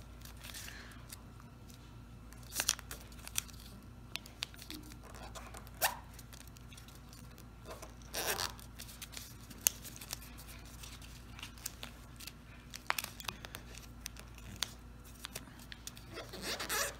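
Paper is creased and folded into an origami crane and frog, producing scattered soft rustles and sharp crinkling swipes close by against a quiet background, with no talking.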